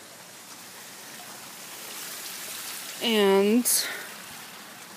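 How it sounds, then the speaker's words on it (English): A homemade backyard waterfall, built by hand, gives a steady, even rush of falling and splashing water throughout. A voice briefly speaks over it near the end. "the waterfall that my mom built herself"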